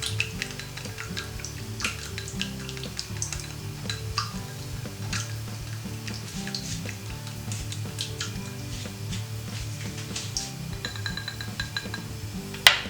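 Vegan salad dressing is whisked with salt in a bowl to emulsify it, giving a steady run of light metallic clinks and scraping ticks over about thirteen seconds, close and fairly quiet, ending in a sharper clink.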